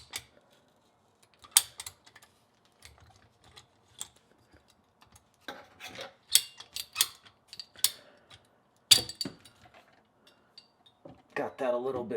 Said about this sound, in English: I'm going to use some PVC cutters.